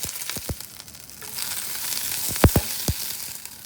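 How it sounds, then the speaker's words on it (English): Lady fingers (bhindi) frying in a tablespoon of oil in a pan: a continuous close, loud sizzle with a few sharp clicks and pops of stirring, no talking. "Now I'm going to add lady fingers, that is bhindi. We have to just fry this till the color changes."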